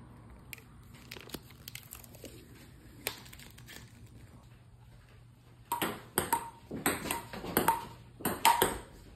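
Pro Spin 3-star table tennis balls in a home rally, a quick series of sharp pings and bounces off paddles and table, faint and scattered at first, then louder and more rapid toward the end.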